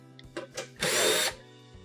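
A power driver backs screws out of a Whirlpool cooktop's top panel: two short bursts of whirring, then a longer half-second spin, loud and close, with no talking.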